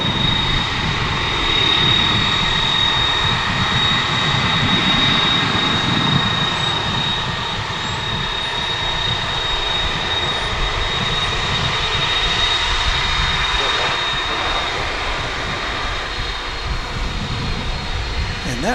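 American Airlines flight 520, a jet airliner, taking off at Dallas/Fort Worth International Airport, a loud, sustained broadband engine roar very close by with a thin high whine, continuous for the whole stretch.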